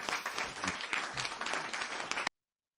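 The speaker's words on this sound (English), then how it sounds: "We give him applause" A burst of applause rattles along at a moderate level, busy with individual claps, then cuts off abruptly into silence.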